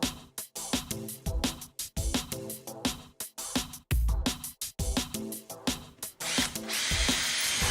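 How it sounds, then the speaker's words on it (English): A power drill bores holes into a wall to mount the rails of a rolling door, running in short, repeated bursts with brief stops between them, loud and close, ending in a longer steady grind. "Remove the box housing from the rails and finish drilling the hole."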